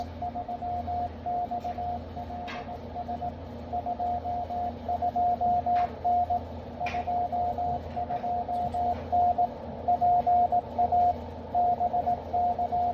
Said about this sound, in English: you should be able to see the Morse code being decoded fairly decently across the bottom